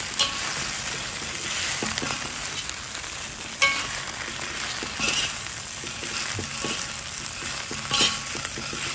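Salt and pepper shrimp with jalapeno sizzles steadily in a hot pan as the ingredients are mixed, with light scraping and stirring clicks scattered over the continuous frying hiss.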